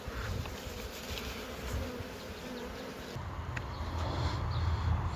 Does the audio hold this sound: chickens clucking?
no